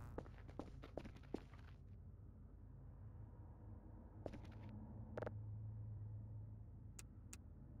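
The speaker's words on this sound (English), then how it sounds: "Why did I just hear other footsteps?" Footsteps in the video game Voices of the Void, a quick run of crisp steps at the start, then a few scattered steps and thuds over a steady low engine-like rumble, no speech.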